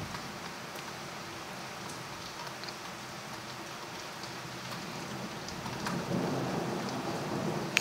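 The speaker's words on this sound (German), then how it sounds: "Da donnert's." Thunderstorm in Demmin with steady heavy rain hissing on surfaces and a low rumble of thunder building toward the end, continuous and moderately loud.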